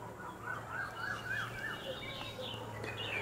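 Birds chirp outdoors in repeated short rising calls, moderately close, over a steady low hum and background hiss, with no talking.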